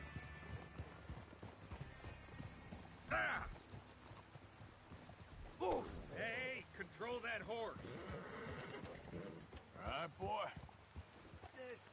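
Horse hooves clip-clopping over snowy ground in the video game Red Dead Redemption 2, a quiet uneven trot with occasional louder steps, mixed in with people talking.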